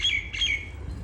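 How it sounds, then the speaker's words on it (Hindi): A common myna gives two short, bright squawking calls close by, each a quick rising-then-falling chirp, with quiet background between them. "कितना प्यारी आवाज़ें आती हैं मैना की"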